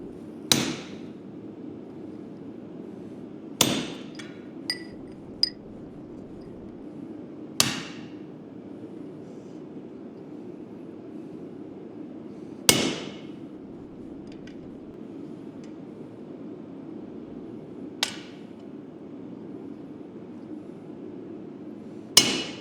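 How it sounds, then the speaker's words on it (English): Metallic hammer strikes on a blacksmith's slot punch ring out at spaced intervals, six sharp blows over a steady low hum, some light and one or two more forceful. "First one, I give it a tap. Second one's coming a little more forceful."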